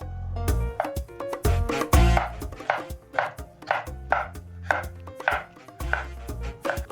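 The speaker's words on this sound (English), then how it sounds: "Chop up my flesh into strips and cube." Knife chopping tomato flesh into strips and cubes on a cutting board for mango and avocado salsa, a steady run of close, crisp thuds with no talking.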